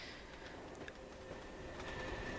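A container train rolls through a Trainz railway simulation, a quiet, steady rumble of wagons with faint rail squeal, no voices over it.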